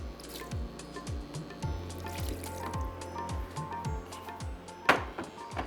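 Water trickles and splashes into a pot of cooking jhangora millet with a steady liquid filling sound and soft repeated bubbling pops, with a brief sharper splash near the end.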